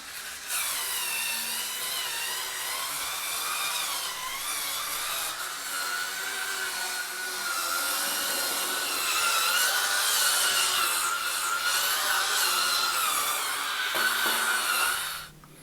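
A Goodpapa C1 cordless electric scrub brush scrubs bathroom tiles, a continuous bristly whirring and scraping that holds steady and close for the whole stretch, with slight shifts in pressure and no talking.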